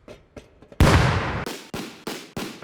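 An F1 grenade bursts in the game Rust with a loud, sudden blast that trails off in a long rumble, followed by a string of sharp, evenly spaced bangs. A few faint pops come before the blast, and nobody talks.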